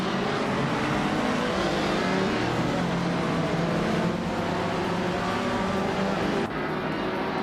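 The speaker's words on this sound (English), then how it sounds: "looks like Kicking Cactus is kicking things off from pole in a classic 1964 Abarth 850T" A classic 1964 Abarth 850T Corsa race car at the start of a video game race, with a dense, continuous engine roar from a pack of cars and a steady drone throughout, a brief shift near the end.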